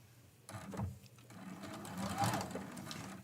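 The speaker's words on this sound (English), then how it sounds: "we are just stitching right from corner to corner" A sewing machine stitches quilt blocks from corner to corner at a short stitch length, a close, rapid mechanical whir in uneven bursts, with a faint voice underneath.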